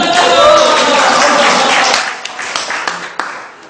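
Audience applause breaks out in a lecture on motivation for Quran teachers, a dense wash of clapping that is loud at first, then thins and fades with scattered claps toward the end.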